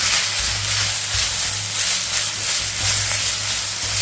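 Fenugreek leaves sauté in ghee with cumin in a kadai, giving a continuous dense sizzle and crackle, loud and close, with faint low stirring thuds and no talk.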